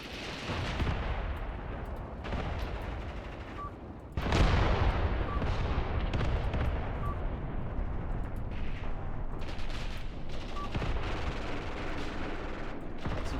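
A Spandau machine gun fires in the war game Graviteam Tactics, loud bursts and rattling shots rolling over a dense, continuous battle din, heaviest in the second half.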